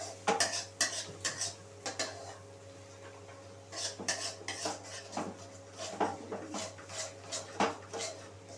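Metal spoon scraping and clinking against a cooking pan as spices are stirred and fried down in oil, a steady run of sharp clatters and scrapes close by, with a low hum underneath and no talking.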